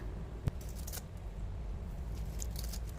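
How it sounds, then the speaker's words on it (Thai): Ripe palm fruit being peeled by hand in a home kitchen, with a sharp click and faint intermittent snipping and scraping over a low steady background hum. "แล้วก็นำมาปอกเปลือกออกให้หมดนะคะ"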